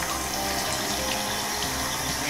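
A faucet running in the video game Brink of Consciousness: a loud, steady gush of water pouring continuously with a broad hissing splash, alone without talk.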